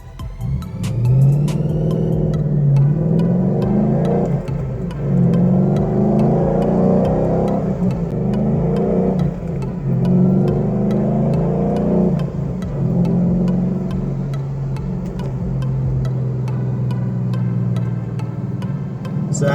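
A 2012 Ford Mustang GT V8 with a Flowmaster Outlaw exhaust, loud deep rumbling as it cruises in third gear, with repeated revs rising and falling and a strong low drone throughout.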